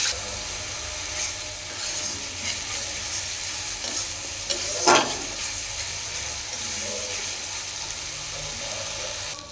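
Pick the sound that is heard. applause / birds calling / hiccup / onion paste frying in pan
onion paste frying in pan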